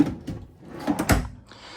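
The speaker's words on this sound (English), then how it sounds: "then you have 3 drawers here, full extension, plywood box construction" A full-extension plywood-box drawer in a 2026 Keystone Cougar 23MLE fifth-wheel RV slides and thuds shut, a short close-up knock followed by a brief rattle in a quiet interior.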